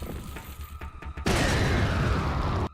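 A grenade goes off in a Resident Evil 4 randomizer, bursting suddenly into a loud, broad roar after scattered smaller clanks and holding for over a second before cutting off.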